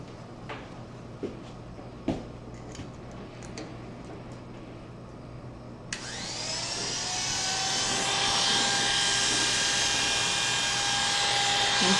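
Electric hair clippers fitted with a half-inch guard, cutting a man's hair: a few soft clicks and handling noises, then a loud, steady motor buzz starts midway and keeps running close up, with no talk.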